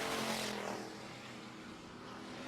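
Pure stock race cars racing on a dirt oval at a feature event: a steady, loud engine roar that swells as a car passes near, then settles into a slightly softer continuous drone.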